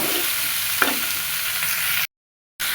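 Hilsa fish and ash gourd sautéing in a hot pan, giving a constant dense sizzle with a faint stir stroke, close and loud, then cut off abruptly by a short silence before resuming.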